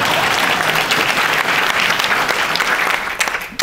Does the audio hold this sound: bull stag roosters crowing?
no